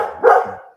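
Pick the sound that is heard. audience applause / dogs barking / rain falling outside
dogs barking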